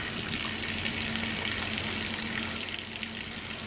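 Laundry wash water draining outdoors at an off-grid tiny house, a steady, close rushing gush of liquid that runs on without break and with no voices.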